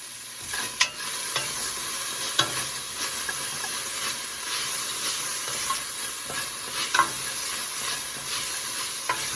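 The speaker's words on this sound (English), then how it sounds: "First we add the onions." Onions dropped into the bottom of a beef stew pot and stirred, giving a steady frying sizzle with several sharp scraping clicks from stirring, and no talking.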